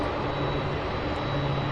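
Airplane at SDF airport, a steady broadband engine roar held at constant level for under two seconds, fairly loud with no voices.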